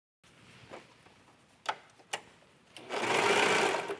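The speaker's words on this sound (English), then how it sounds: "And I am using a 4-thread overlock on this," A 4-thread overlock serger stitches a tank top seam, a dense steady whir starting near the end after a few soft clicks and handling noises, alone with no talk.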